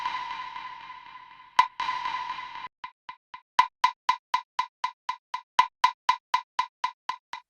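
Soundtoys Echoboy plugin in single echo mode: a sustained tone cuts off, then repeats as a steady train of evenly spaced echoes, each a crisp decaying hit, about a dozen repeats, clean and alone.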